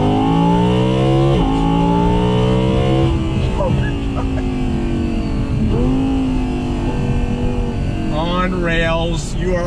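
A 2020 Audi R8 Spyder engine revs hard toward almost 9,000 RPM, its loud, close note climbing in several rising sweeps with brief dips between them and a final high surge at the end.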